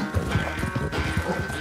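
Horse hooves in the video game Red Dead Redemption 2, a steady galloping clip-clop with rhythmic thuds in the foreground over a continuous background hum.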